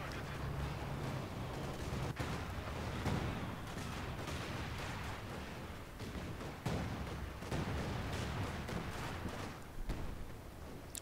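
Artillery fire in the Company of Heroes 2 strategy game, a dense, continuous barrage of booming impacts and crackling gunfire with repeated sharp blasts throughout.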